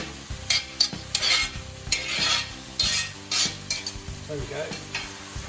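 Onions sizzle and fry in a hot pan while a utensil stirs and scrapes through them in repeated bursts, close up, with a brief spoken remark at one point.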